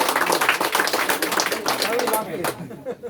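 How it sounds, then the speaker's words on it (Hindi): A crowd at an open public meeting in Thariya claps in a dense, steady patter that fades out near the end, while people talk over it. "इन लोगों के लिए एक बार जोरदार ताली होना चाहिए।"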